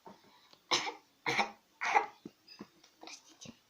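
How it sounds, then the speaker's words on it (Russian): A child coughs in a short series of three sharp, fairly loud coughs in quick succession, followed by softer throat noises and breaths, in a quiet indoor room. "Как кашляют в школе?"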